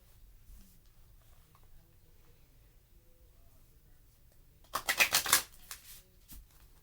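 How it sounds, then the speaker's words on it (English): Large, awkward tarot cards are shuffled in one brief burst of rapid riffling flutter, close and fairly loud, surrounded by a quiet room with soft low background noise. "So I'm going to go ahead and shuffle"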